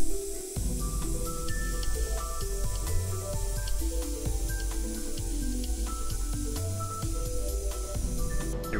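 A Power-TEC nitrogen plastic welder hisses steadily throughout a bumper repair, with faint clicks and tonal ringing layered over a constant near-field spray of gas.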